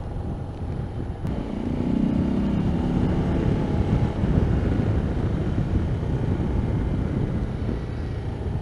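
A Harley-Davidson Road Glide of about 1600 cc rumbles along at steady speed, a dense low engine drone mixed with rushing wind that stays loud and even throughout, with no voices.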